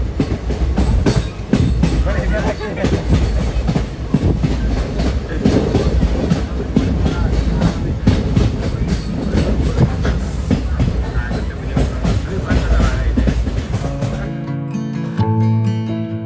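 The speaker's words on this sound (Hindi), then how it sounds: "अब दोस्तों हमारी ट्रेन पूरा यू टर्न लेकर आ चुकी है" A train rolls along rails on the line to Dudhsagar waterfall in Goa, with a steady, loud rumble and clatter throughout and a faint tonal sound near the end.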